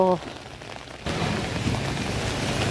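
Rain falling outdoors begins abruptly after a brief tonal beep and a second of quiet, then continues as a dense, even patter of close, moderately loud drops with no clear pauses.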